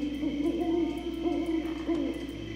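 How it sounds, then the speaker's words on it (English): An owl hoots in the video game Dark Parables: Swan Princess, three soft low hoots spaced evenly over a steady ambient drone, fairly close and clear. "that owl that was on the loading screen."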